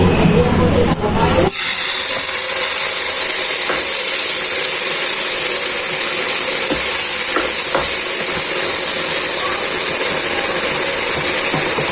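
Bagoong hits hot oil in a pan and fries with a loud, continuous sizzle and hiss, with a brief clatter of it going in at the start and occasional stirring knocks.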